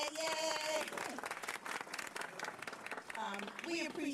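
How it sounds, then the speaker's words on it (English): Audience applause and cheering for the utility providers, including Pepco, at a Prince George's County public event, a dense wash of clapping lasting throughout with voices mixed in. "Let's give our utility providers a round of applause."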